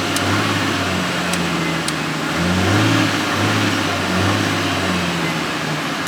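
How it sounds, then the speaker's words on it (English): A car engine revs through its exhaust close by, the tone swelling and easing in a few steady mid-pitched pulls over a constant idle hum. "Let's see if the exhaust is quieter right now. Let's see if it gets louder."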